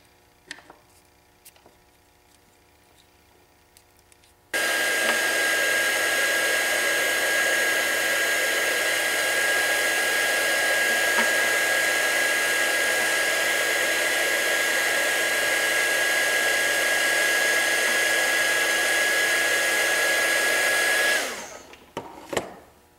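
A heat gun blows steadily for about sixteen seconds while shrinking heat shrink tubing over an LED's wires, a constant loud whooshing roar with a thin whine that starts abruptly after a quiet stretch and cuts off near the end.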